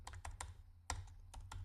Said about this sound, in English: I realize I'm typing on a very small screen